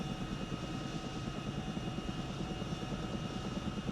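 A Chinook helicopter drones steadily with a low, even rotor thrum, moderately distant and fairly quiet, with no voices.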